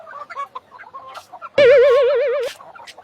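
A chicken clucks in a few short, scattered calls, then lets out one loud, long, wavering squawk lasting about a second before falling back to quiet clucks.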